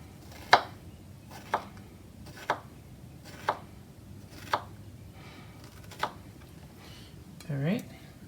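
A knife slices strawberries into thin slices on a cutting board, giving six crisp, evenly spaced taps about a second apart, followed by a short vocal sound at the very end.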